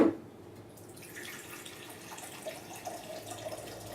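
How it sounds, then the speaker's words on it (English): Water pours from a small stream into a cold brew coffee maker, a steady, close trickle with light splashing that runs continuously after a brief louder start. "I add about half a gallon of water, 64 ounces."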